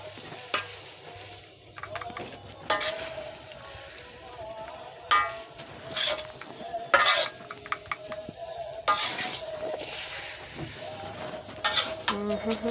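Fried yellow noodles mixed with kuey teow, with onions, being stirred and tossed in a hot pan: repeated irregular scraping strokes and clanks over a constant sizzle, close and fairly loud.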